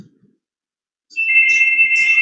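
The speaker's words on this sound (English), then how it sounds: "Phone ring out." A phone rings indoors during a fluid mechanics class, a steady electronic tone starting after a second of near silence and holding loud and continuous to the end.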